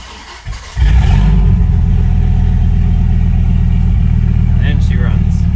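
A 29,000-mile Dodge Ram SRT-10 pickup with a Viper V10 cranks briefly and fires, settling into a loud, deep, steady rumbling idle close by, with a voice speaking faintly over it.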